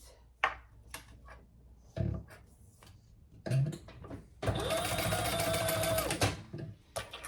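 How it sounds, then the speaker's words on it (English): Sewing machine basting a D-ring connector onto a messenger bag, a loud steady whir lasting about two seconds after some handling of fabric, close up. "let's just baste that so it stays where we want it."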